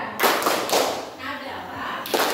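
Group hand clapping during a clap chant at a teachers' workshop, several bursts of claps in a rhythmic pattern, loud and close, mixed with voices.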